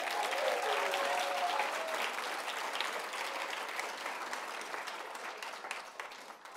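Sustained applause from a large audience welcoming a high school team onto a festival stage, steady and dense clapping that slowly thins toward the end.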